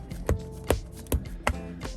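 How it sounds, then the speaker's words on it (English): A deck of trading cards for a Burning Abyss duel deck is shuffled by hand, giving four crisp riffling bursts in a steady rhythm, close and moderately loud, with no talk. "I'm just going to shuffle this up a couple times here"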